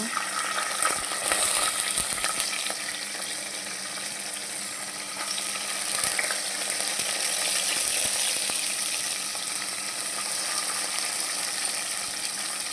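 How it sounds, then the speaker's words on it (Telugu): Onions frying in a pan for chicken pulao, with green chillies and green peas nearby, give a steady, moderately close sizzle with faint stirring scrapes throughout, no talking. "ఆనియన్స్, మంచిగా ఫ్రై అవ్వాలి"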